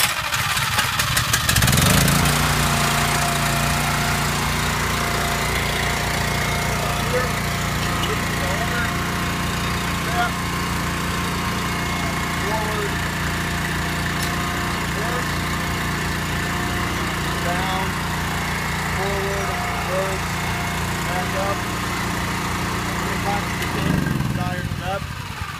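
Petrol engine of a hydraulic earth auger, started with choke on, runs steadily and close for about twenty seconds with a constant mid-pitched drone, then cuts out at the end.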